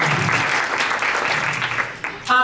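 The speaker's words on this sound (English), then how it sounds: "You may applaud Miriam." Audience applause at a Live at the Library theater event, a steady wash of many hands clapping in a room, continuous and fairly loud, ending with a brief burst of voices.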